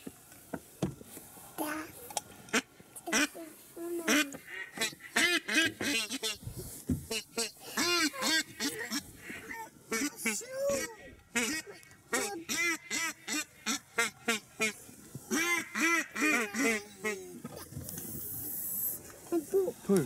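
Ducks and geese call over the water on the opening day of a duck hunt. The calls come as repeated quacks and honks, some close and some farther off, mixed in with frequent talk from several people, including a child.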